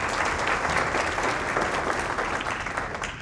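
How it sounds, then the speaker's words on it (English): Steady, dense applause from an audience at a civic forum, loud and sustained throughout with no speech over it. "how about a round of applause for the great work they do?"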